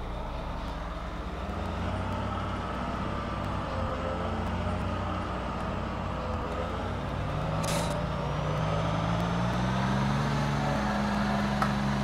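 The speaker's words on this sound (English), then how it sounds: "I love the idle noise of this bus. Let's go ahead and rev it up a little bit." A Thomas HDX school bus engine idles with a steady, heavy diesel rumble, then revs up gradually so the drone rises in pitch near the end, loud and continuous with no talk.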